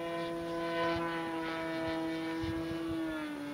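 An RC Extra 300 v2 model airplane drones steadily overhead as it comes in to land, with a constant buzzing propeller tone that slowly drops in pitch at moderate distance.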